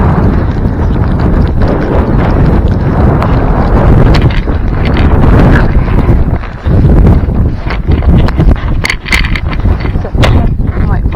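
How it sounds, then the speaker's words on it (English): Strong blizzard wind blasts across open ice during winter walleye fishing, a loud, constant roaring buffet on the microphone that barely lets up, with only small dips in intensity. "sorry if you can't hear, and it's really windy."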